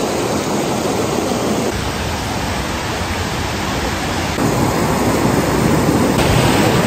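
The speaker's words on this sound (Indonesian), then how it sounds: "Lihat aliran airnya guys" Mosnica river rushing through a gorge in the Slovenian Alps, a loud dense continuous roar of flowing water close by, steady throughout with no talking.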